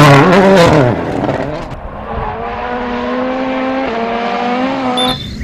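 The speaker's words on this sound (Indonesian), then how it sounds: "di sini ada mobil balap" A race car engine revs with a rising, whining pitch that climbs sharply at first, then holds a steady drone for several seconds before cutting off near the end. The sound is fairly loud and close, with no talking.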